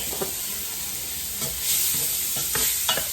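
Onions sautéing in a hot pot: a steady sizzle broken by several sharp scrapes and knocks of a spoon as they are stirred around.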